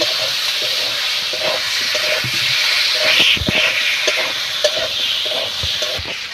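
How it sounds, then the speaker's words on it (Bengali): Ginger-garlic paste stir-fried in a wok with garam masala, giving a steady loud sizzle with scraping stir strokes and occasional knocks of the spatula against the pan. "এবার ভালো করে কষিয়ে নেব।"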